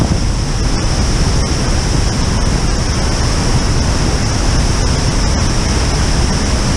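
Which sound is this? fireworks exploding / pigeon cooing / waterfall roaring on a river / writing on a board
waterfall roaring on a river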